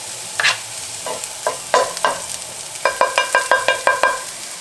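Spicy Italian sausage filling with garlic stirred in a pan, a utensil scraping and clattering in irregular strokes, then a quick run of rhythmic clicks, with a soft sizzle beneath and no talking.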